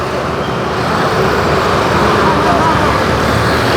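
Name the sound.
road traffic in Aizawl town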